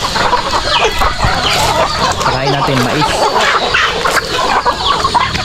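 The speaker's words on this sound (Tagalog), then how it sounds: "Ito yung mga nangitlog natin mga manok" Native chickens on a rural farm cluck and murmur close by in a busy flock, with someone talking over them throughout.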